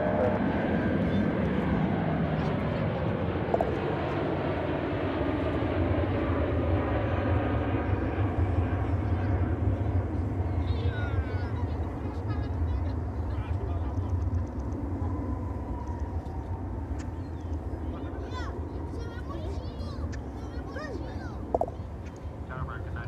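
MD-11 airliner arriving and touching down at Dallas/Fort Worth Airport, a long continuous engine roar, loud and broad, slowly easing in pitch and level, with a person talking over it throughout.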